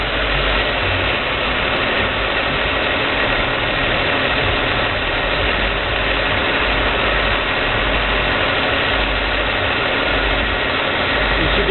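A cold-started 3800 V6 in a 2004 Chevy Impala idles steadily, a constant low engine hum and mechanical clatter holding even for about twelve seconds with no one speaking.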